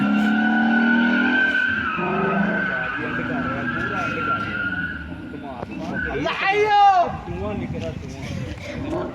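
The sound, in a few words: car skidding with squealing tires during street racing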